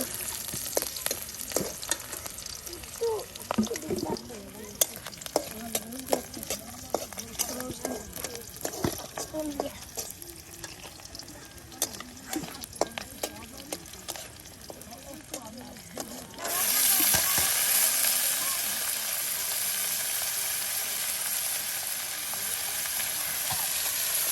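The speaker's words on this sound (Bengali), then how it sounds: "পেঁয়াজ মরিচ একদম তেলের সাথে একদম ভেজে নেওয়া হচ্ছে।" Onion and chili fry in cooking oil with a steady sizzle, stirred now and then, while a voice talks over it; the hiss then turns louder and smoother near the end.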